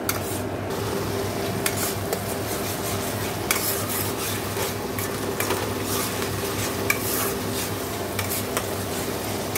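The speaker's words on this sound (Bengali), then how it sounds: "দিয়ে এবার ভালো করে মশলাটা কষে নেব।" Spice masala with salt, turmeric and sugar being stirred and fried in a pan for crab curry: continuous close scraping of a spoon against the pan over a steady low sizzle, with occasional sharper clinks.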